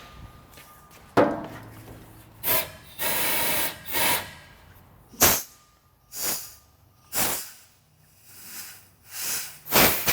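A compressed air nozzle fires into a plugged line on an F-100 truck project, giving about eight sharp hissing blasts of varying length with short quiet gaps between them.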